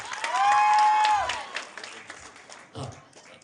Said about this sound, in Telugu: ఒక్కసారి సురేష్ కొండేటి గారికి గట్టిగా క్లాప్స్ ఇవ్వాలి ఎవ్రీవాన్